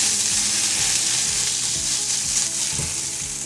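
Onions fry loudly in a hot pan for a chicken and butternut squash curry, giving a dense, constant sizzle close by, with soft rhythmic scraping as they are moved around.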